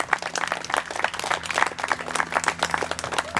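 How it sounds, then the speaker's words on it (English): An audience claps steadily through the grand re-opening of a playground tot lot, a dense patter of many hands over a low steady hum, sustained and fairly even for the whole stretch. "So a big round of applause for our DPW and rec people."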